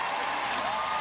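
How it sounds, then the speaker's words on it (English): A large arena crowd roars and applauds at a gymnastics world championships after a British gold medal, a dense, steady wash of cheering with no break. "Listen to that crowd"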